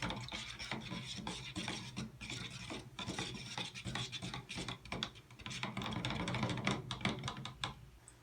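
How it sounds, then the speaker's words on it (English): A screwdriver stirs paint and hardener in a can with continuous scraping, rasping strokes against the metal, close and steady at low volume, with no talking. "I don't have any paint sticks, so I'm using my screwdriver to mix this around."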